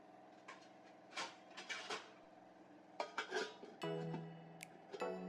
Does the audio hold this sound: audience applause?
no